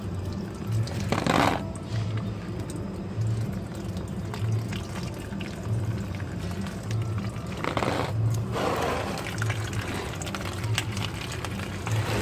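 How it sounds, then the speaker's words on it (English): Coolant water draining and splashing out of a Mazda RX8 13B rotary engine during a flush, a continuous pouring trickle with a couple of louder gushes over a steady low hum, close by. "See the water coming out?"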